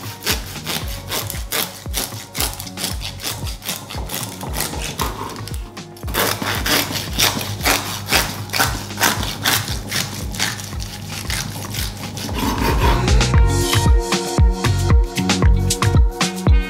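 Knife cutting through crispy roast porchetta skin, a steady run of loud crunching, sawing strokes that grow harsher and denser toward the end, with no talking.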